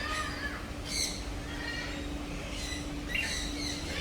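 Cockatoo squawking at a Singapore bird park, a few harsh, raspy calls spread across the moment with a steady low hum underneath and no talking.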